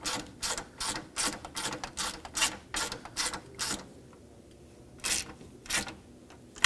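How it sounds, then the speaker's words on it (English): A ratchet snugs the nuts on the A/C condenser of a 1997-2001 Lexus ES300 with quick, close clicking strokes in a steady rhythm, then a short pause and a few more strokes. "Just going to snug these up while I'm at it."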